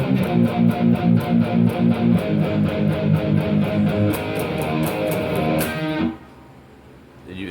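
Heavily distorted electric guitar chugging palm-muted power chords in a steady rhythm, then ringing open chords, loud and close, ending abruptly around six seconds into near quiet.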